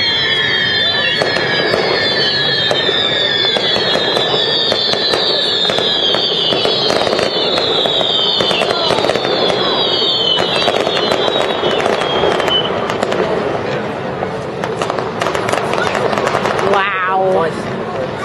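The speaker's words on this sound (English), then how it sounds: "Filmed enough fireworks now." Bonfire night fireworks, a long dense barrage of crackling bangs with whistling rockets rising through it, loud and continuous, with people talking and reacting underneath.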